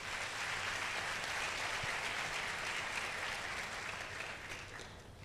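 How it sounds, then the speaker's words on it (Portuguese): Audience applause at a Brazilian live show, a continuous wash of many hands clapping at moderate volume from a crowd, steady throughout and easing slightly toward the end. "Ótimo, vem, palmas para ele,"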